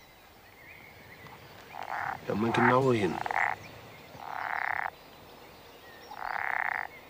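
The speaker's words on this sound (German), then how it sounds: "Das ist ein wirklicher, garantiert echter Frosch." Several short, raspy frog croaks repeat at irregular intervals, with a brief spoken voice overlapping one of the early croaks.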